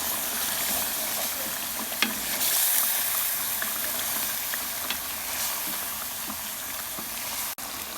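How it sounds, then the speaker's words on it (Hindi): Mutton karahi fries after yogurt is added, producing a continuous hissing sizzle with steam and scattered pops and stirring knocks, close and steady for several seconds, no voices. "दही डालने के बाद इसको हम मज़ीद भूनेंगे"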